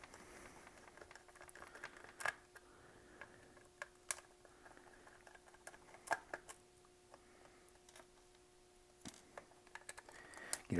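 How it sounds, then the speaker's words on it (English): Faint, sparse clicks and small scraping ticks as screws are undone from a Nintendo NES controller, quiet and close with irregular gaps between them. "you're going ahead and undo these screws"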